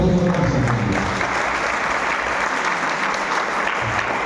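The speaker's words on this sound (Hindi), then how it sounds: "इसी बीच हम चाहेंगे जोरदार ताली उस शख्स के लिए" Audience at a school headmaster's speech event in Sheohar clapping loudly, a dense, continuous burst of applause that holds steady for several seconds.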